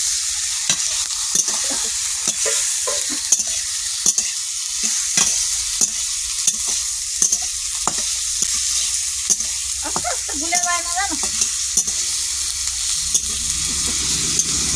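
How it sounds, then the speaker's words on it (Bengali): A spatula scrapes and stirs mixed garden vegetables with bori in a sizzling pan, giving a rhythmic series of scraping strokes over a continuous frying hiss, with brief conversational speech in the background. "এই নাও, নাড়ো, নাড়ো। খুন্তি দিয়ে নাড়ো।"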